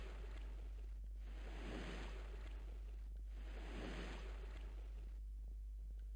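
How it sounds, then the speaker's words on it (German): Water flows in the video game Little Big Adventure, a faint rushing wash that swells and ebbs in slow waves over a steady low hum, with no talking. "Es ist ja durchaus Wasser zu hören."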